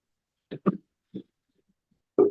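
A few short, sharp coughs close by during a public budget meeting, two quick ones followed by a single cough, then a louder harsh cough after a brief pause.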